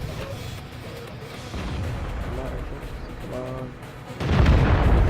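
Artillery shells striking in the World of Tanks video game, a dense rumbling battle bed with engine-like tones, swelling into a loud, heavy blast near the end.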